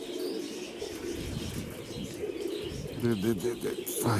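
Pigeons from Mykolaiv cooing and chirping close by, with a burst of wing flaps and louder calls near the end, while a person talks softly in the background.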